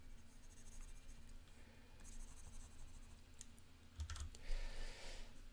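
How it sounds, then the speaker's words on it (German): Erasing marker writing on a transparency slide on an overhead projector, heard as soft rubbing and scratchy friction strokes over a steady low projector hum, with a brief louder burst of wiping near the end. "jetzt radiere ich nochmal alles weg, damit wir hier ganz normal auf der Folie weitermachen können"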